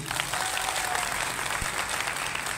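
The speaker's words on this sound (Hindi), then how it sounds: "वो जोरदार तालियां होना चाहिए" Steady, loud applause from a crowd fills the whole stretch, an even wash of many hands clapping without pause.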